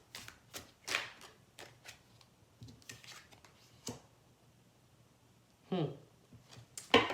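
Tarot cards shuffled by hand during a reading, giving several soft riffling bursts and flicks spread across the moment, fairly close and quiet, with no talking over them.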